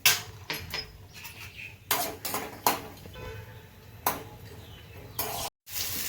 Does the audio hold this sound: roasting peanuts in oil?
yes